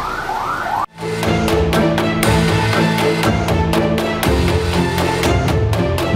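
Ambulance sirens wail during a mass school evacuation of sick students, loud and near, with a repeating pulsing electronic tone that cuts in after a brief drop.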